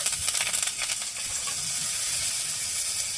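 A bay leaf hits hot oil and sizzles, a bright steady hiss with a cluster of crackles at the start that settles into an even fry, close and without talk.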